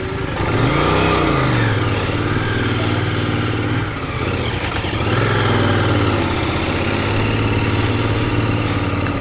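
A motorcycle engine drones steadily up close, its pitch rising and falling as it revs, loud and continuous throughout.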